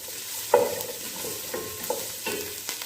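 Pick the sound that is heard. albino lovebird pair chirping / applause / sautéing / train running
sautéing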